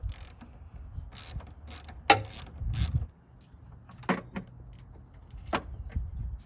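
A ratchet loosens the 10 mm negative battery terminal bolt on a 2020 Chevrolet Silverado, heard as a few quiet clicking bursts close by with faint handling noise between them.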